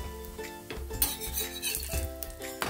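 A methi paratha fries in oil on a pan, a soft sizzle running beneath repeated clinks and scrapes of a utensil against the metal, close and fairly quiet.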